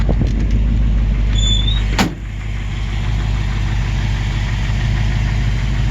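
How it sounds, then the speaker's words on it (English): A 1934 Ford pickup engine idles steadily while warming up, a loud, close, even rumble after a brief clunk, with no talking. "the idle drops down once you blip the throttle there. Now just let it warm up for a few minutes"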